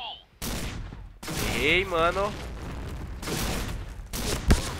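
Gunfire in Point Blank shotgun mode comes as several heavy, booming blasts spread across the clip, punctuated by a rapid chattering burst, with someone talking casually between shots.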